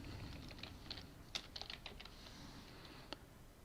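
Keystrokes on a computer keyboard, entering a search during a modded Minecraft crafting session: a few scattered taps then a quick flurry of clicks, close and fairly quiet over a low hum.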